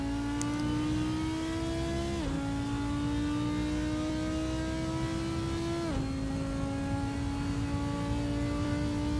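Audi R8 GT4 race car engine in the Assetto Corsa racing game at Imola, a loud steady drone climbing in pitch through the gears with two quick dips at the upshifts, no voices.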